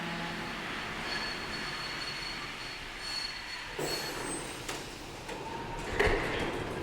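A train pulls into a station with a long, thin squeal of wheels on the rails, joined by clanks and a rising rumble as it slows.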